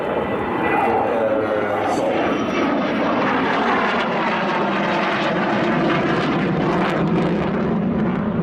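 A Saab Viggen jet fighter roars at an air show, a loud, steady, broad engine rush that holds without break for the whole stretch.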